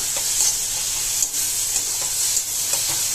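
Fish masala spice paste with ginger-garlic paste fries in a pan, giving a close, steady hissing sizzle with soft stirring scrapes throughout.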